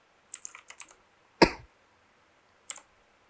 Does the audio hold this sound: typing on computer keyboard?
yes